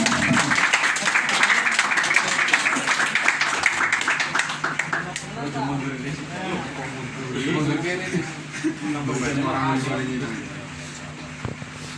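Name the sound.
audience applause at prize ceremony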